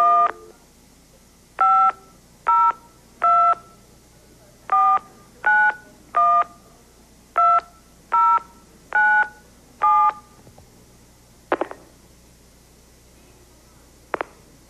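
Touch-tone telephone keypad tones, about a dozen short steady beeps in an irregular dialing rhythm, loud and close, for a call on a 1981 game show, followed by two brief clicks near the end with no talk.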